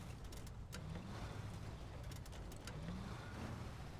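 A Chevy truck engine in Snowrunner rumbles low and steady while crawling slowly downhill, a constant droning hum with faint tonal rises and light clicks over it, and no voices.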